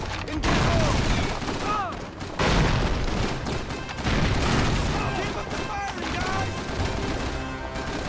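Grenade blasts and gunfire from the Call of Duty 3 video game on PS2 during a town-clearing battle, as dense, continuous combat with repeated booms and rattling shots at a steady high level, with a voice heard among the noise.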